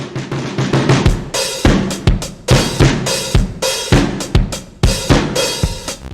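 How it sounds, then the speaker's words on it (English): A distorted drum kit pounds out a steady beat, with punchy kicks and crashy, gritty hits repeating in a driving rhythm, loud and alone with no talk. "In the end, I settle on some basic bitch distortion."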